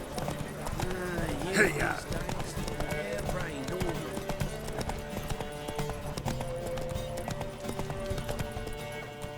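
Horses galloping in The Witcher 3, hooves clip-clopping in a continuous rhythm over game music, with a brief whinny and voices calling out over the riding.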